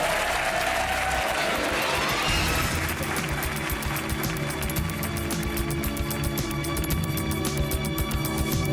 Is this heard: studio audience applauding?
yes